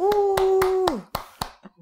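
Six sharp hand claps spaced about a quarter second apart, ringing out up close during a podcast recording session, with a steady sustained tone beneath the first four that then drops away.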